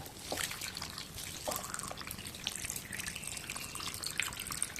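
Water pours steadily into a pot of pumpkin pulusu, a tangy stew, making a continuous close splashing trickle that runs for the whole stretch without talk.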